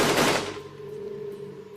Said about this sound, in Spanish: Cuando suenan los primeros disparos